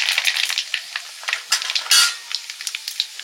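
Black cumin seeds sizzling in hot oil in a wok, a bright crackling fry with scattered pops and spits, close and steady.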